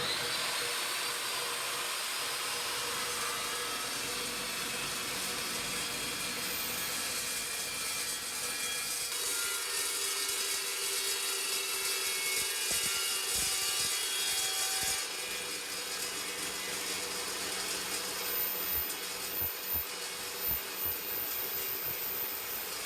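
Continuous mechanical sawing noise, close and steady, with a scratchy rasp that shifts partway through and ends in a few uneven strokes.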